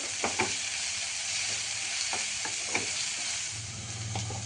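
Onion and tomato sauté in a pan for chana masala, a low steady sizzle broken by several sharp scrapes of a spoon stirring against the pan.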